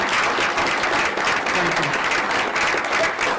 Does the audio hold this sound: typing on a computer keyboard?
no